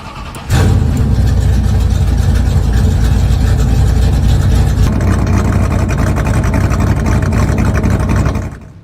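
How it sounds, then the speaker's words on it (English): Stock car engines fire up together at the one-mile flat Loudon speedway, a sudden loud roar that swells into a sustained, rumbling idle of many engines and holds steady for about eight seconds before cutting off abruptly. "Engines are fired and the drivers are ready and prepared for 100 laps"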